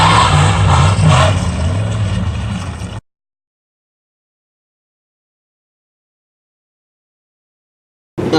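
A drag car at the Roadkill Zip-Tie Drags revs loudly for about three seconds as the clutch is popped, then cuts to silence, with a brief burst of noise returning at the very end.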